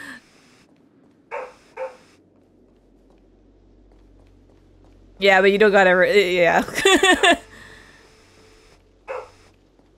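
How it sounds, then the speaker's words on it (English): A dog barks in the video game Honkai: Star Rail, a few short barks spread across the clip, mostly under louder talking from a nearby player. "Who are you barking at?"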